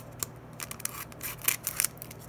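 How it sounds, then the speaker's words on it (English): Scissors snipping open a Bowman University 2022 football card pack: a quick run of sharp, close clicks and crisp cuts in an otherwise quiet room. "Get the scissors out."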